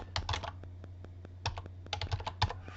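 Short bursts of typing on a computer keyboard while entering a title in Photoshop, quiet clustered key clicks separated by brief pauses, close by and alone.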